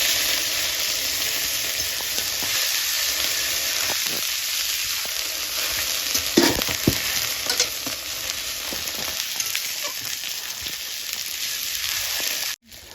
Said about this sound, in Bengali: পেঁয়াজ বাটা আমি আদা বাটা দিয়ে নিয়েছি ভালো করে কষিয়ে নেবো